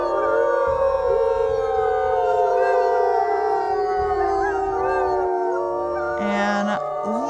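Several wolves in a pack howl together in a wolf video game, long overlapping wavering tones rising and falling in chorus, loud and sustained, with a few higher yips near the end.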